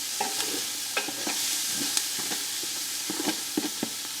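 Tomato paste and onions being stirred on a Blackstone griddle: steady sizzling with repeated scraping clicks of a spatula on the flat-top, close and fairly loud, no talking.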